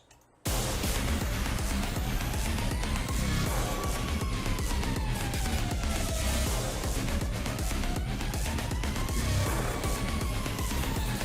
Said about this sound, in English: I think a siren adds urgency.